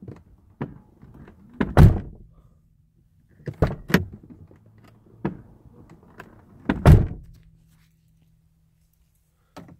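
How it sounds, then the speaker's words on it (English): The door of a switched-off Mercedes W220 with an electrical fault is opened: a series of sharp latch clicks and solid thunks, spaced apart, with quiet pauses between them. "I'm gonna end up opening the door."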